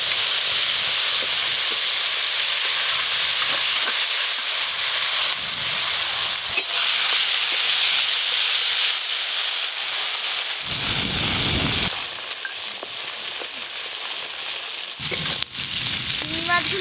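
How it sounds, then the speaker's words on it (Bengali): Prawns fry in hot oil with a loud, continuous sizzling hiss, broken by a few short bursts of stirring and clatter. "প্রথমে চিংড়ি মাছগুলো ভেজে নেব।"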